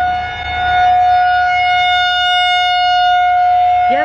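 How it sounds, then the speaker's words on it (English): A loud, sustained wailing tornado siren in Texas holds a steady pitch for several seconds, with no talking. "that's a tornado siren."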